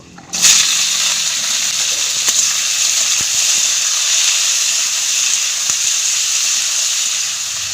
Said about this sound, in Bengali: তেল গরম হয়ে গেছে শুকনো লঙ্কা আর পাঁচ ফোড়ন দিয়ে দিব কেটে রাখা সবজিগুলো দিয়ে দিব